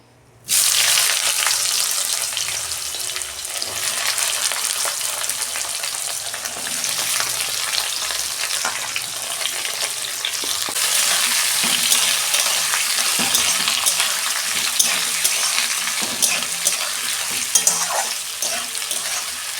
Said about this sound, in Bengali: পেঁয়াজটা আমি 2 মিনিট ভেজে নেব